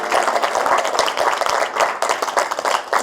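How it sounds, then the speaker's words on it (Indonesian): A short burst of brisk clapping from a small group, quick and close, lasting a few seconds. "Tepuk tangan."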